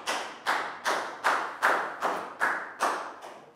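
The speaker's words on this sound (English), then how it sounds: "Big round of applause for Prel." Classroom applause for a Year 4 student during a science lesson: about nine evenly spaced, rhythmic group claps, fairly close and crisp, with no talk over them.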